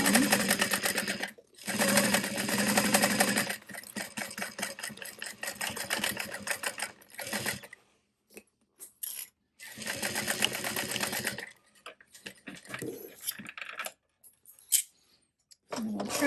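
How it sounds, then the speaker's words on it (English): A sewing machine stitches a shoulder bag seam at a half-inch allowance, back-stitching at the top, running in steady bursts that stop and restart with short quiet gaps and small handling noises between. "We're going to sew at a 1/2 inch seam allowance, back stitching at the top and coming down."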